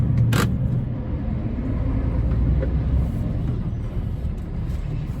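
Steady low rumble of heavy traffic on an expressway, orange dump trucks droning past continuously with no voices.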